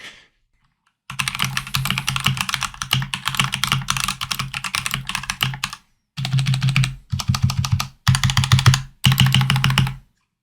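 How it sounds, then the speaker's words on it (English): Keycaps are pried off a Redragon K629 budget mechanical keyboard in long bursts of rapid plastic clicking and clattering, separated by short pauses, loud and close. "pulled all the keycaps off, got them off to the side in a pile"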